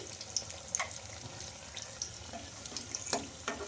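Bottle gourd fritters (bajji) fry in hot oil, giving a steady low crackle and sizzle with scattered sharper pops and light clinks, heard alone without talk.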